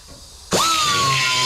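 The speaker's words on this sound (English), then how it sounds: "I'm just going to use the die grinder" A die grinder cleans up metal on a car front suspension part, starting abruptly after a quiet moment and holding a loud, steady high-pitched whine that dips slightly in pitch as it bites into the metal.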